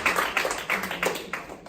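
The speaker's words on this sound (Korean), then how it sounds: "박수 한번 쳐주세요" Small audience at a credit union marketing talk gives a brief round of clapping, a few distinct close claps in an uneven rhythm, fairly quiet and quickly over.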